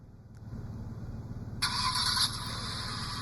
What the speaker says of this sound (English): So you can see we can hit start the engine